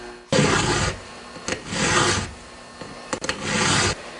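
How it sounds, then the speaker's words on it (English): A round hand file rasps along a chainsaw chain's teeth in three steady, close strokes, each a loud scraping pass separated by brief pauses and small taps as the file is repositioned. "You can always put a bit of pressure on the file toward the teeth, not much. It helps to sharpen it quicker."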